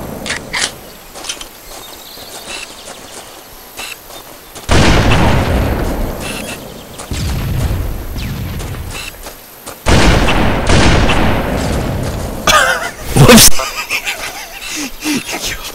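A Halo grenade goes off in a custom match, with heavy loud blasts rising out of quieter game noise and a sharp burst near the end; a voice is faintly present at times.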